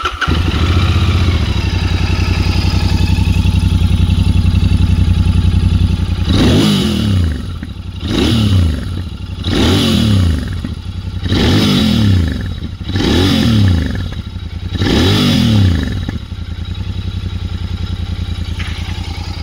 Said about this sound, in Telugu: ఇప్పుడైతే ఈ వెహికల్ యొక్క ఎగ్జాస్ట్ నోట్ అయితే విందాం.